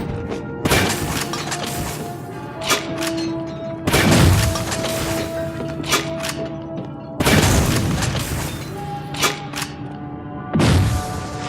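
Explosions in the video game Shadow Warrior 2: four heavy, loud booms at roughly three-second intervals, each with a crashing burst of debris that rings out over a steady in-game hum.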